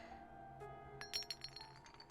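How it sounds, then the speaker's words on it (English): Glass vials clinking in the Hakuoki video game, a few light, bright chinks and rattles over a faint sustained musical backdrop, quiet and close. "2 glass vials filled with red liquid came rolling out from out of my bag"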